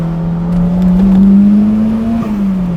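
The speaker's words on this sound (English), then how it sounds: "The downshifts are crazy" A turbocharged Honda S2000 engine revs up and eases back, a loud, close, steady drone that climbs slightly in pitch then drops as the throttle closes.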